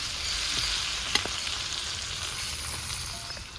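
Quiet, steady sizzling of turmeric powder frying lightly in oil in a pan, with a small clink partway through and no voices.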